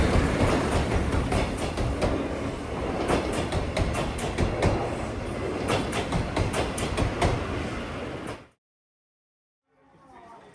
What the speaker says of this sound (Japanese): 駅で秩父鉄道の名物、SL パレオエクスプレス、とすれ違い